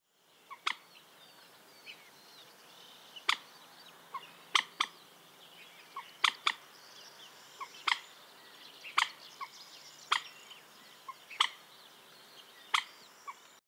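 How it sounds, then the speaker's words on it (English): A common moorhen gives loud, sharp clucks like a startled chicken, a dozen or so abrupt calls spaced irregularly, some in quick pairs, over a quiet outdoor background. "producing loud clucks similar to a startled chicken"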